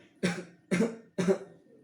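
Three short coughs in even succession, close and fairly soft, with quiet between them.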